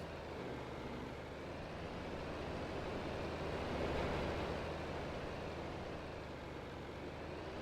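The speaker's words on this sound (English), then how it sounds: "let's get this tractor put away." In a farm video game, a tractor's engine hums at a steady low drone while it drives into a narrow barn, swelling slightly midway and fading again, with no one talking.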